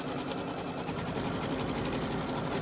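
A Kimberbell embroidery machine stitches a satin stitch on a Christmas tag, producing a steady, dense, rapid mechanical whirring hum with no pauses and no talking.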